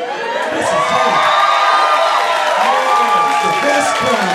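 A comedy show audience cheers loudly and continuously, a dense crowd roar full of shouts and whoops from many voices together.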